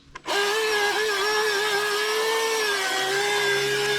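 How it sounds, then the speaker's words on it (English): A Milwaukee M18 Fuel battery-powered electric chainsaw cuts through wet poplar about a foot thick, starting with a sudden loud whine and holding a steady, high-pitched motor drone with slight pitch dips under load. "This saw ate every kind of cut and tree I threw at it."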